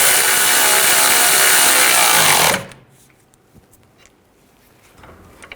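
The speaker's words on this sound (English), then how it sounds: "I'll tighten this nut and bolt down." A power tool runs loud and steady for about two and a half seconds, tightening a nut and bolt on the rear lower ball joint of a 2006-2010 BMW 550i, then stops, leaving faint clicks and handling noises.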